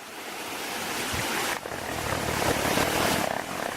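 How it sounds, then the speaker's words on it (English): A steady, broad rushing roar of a waterfall in Pirenópolis, constant and fairly close with no talk. "Yet another one of the incredible waterfalls here in Pirenópolis."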